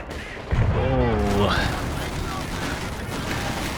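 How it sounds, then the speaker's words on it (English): Assault grenades blow up inside a building during a muddy Company of Heroes 2 battle, a loud burst followed by sustained rumbling gunfire and blast noise, with a voice talking over it. "Here comes the assault grenades into the building."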